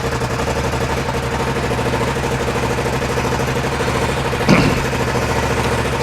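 A cold Suzuki SV650 motorcycle idles steadily on choke, a continuous rumbling engine tone close by with one brief louder blip near the end.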